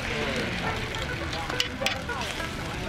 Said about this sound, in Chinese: 在铁板上淋上油，把加了葱花和料酒的蛋液摊在上面